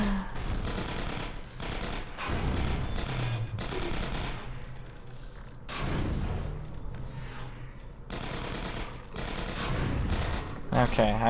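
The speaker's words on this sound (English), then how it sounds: "Careful, I hear turrets." Automated turrets firing in Half-Life 2 Episode 1, loud sustained bursts of rapid gunfire with brief gaps, continuous and close throughout.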